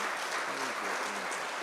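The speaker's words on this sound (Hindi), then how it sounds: "तालियां बजाकर संगीत के शिखर पुरुष का सम्मान करें" An audience applauding and rising to honor a revered musician at a Hindi cultural festival, a loud, dense roar of clapping with a faint murmur of voices beneath.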